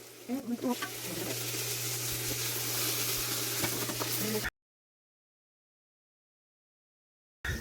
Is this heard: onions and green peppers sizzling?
yes